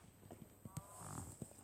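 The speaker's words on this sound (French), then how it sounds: "Ah, c'est une vache." A cow moos in the video game Minecraft, a short low bellow heard faintly alongside a few soft thuds and footsteps, with no talk.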